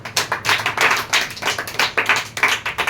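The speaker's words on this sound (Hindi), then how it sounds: "लोग ऐसे केवल ताली बजाता है जी" A few people clap at a student meeting, giving a close, rhythmic run of sharp claps at a steady pace, roughly three per second, with no talk over them.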